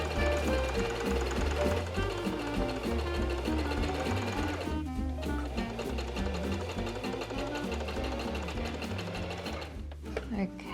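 Sewing machine stitching a folded-over neckline bias binding on a garment, a steady, close mechanical whir running throughout under a loud layer of background music.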